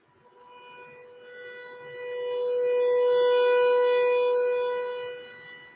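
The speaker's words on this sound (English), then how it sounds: "that tornado siren is to let everybody know" A civil defense tornado siren wails steadily, its tone swelling to a loud peak midway and then slowly fading, heard alone without any voices.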